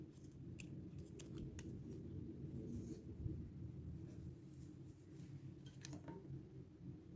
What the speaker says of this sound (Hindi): यहाँ से इधर ये धागा काट के